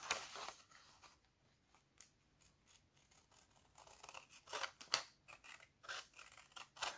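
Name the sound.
scissors cutting out a paper pattern tab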